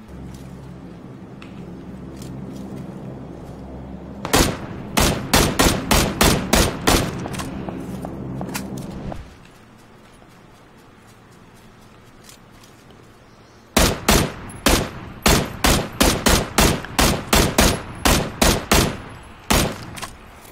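Rapid bursts of video game gunfire, sharp repeated shots in two long volleys separated by a quieter stretch of background rumble.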